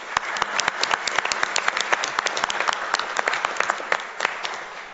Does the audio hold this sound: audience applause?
yes